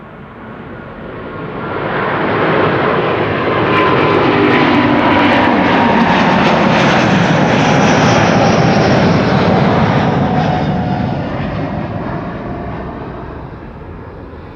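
At Amsterdam Schiphol, aircraft take off on parallel departures, their engines swelling from a distant rumble into a loud, sustained roar that holds and then slowly fades as they climb away.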